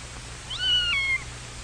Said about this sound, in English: He makes friends with Anna the cat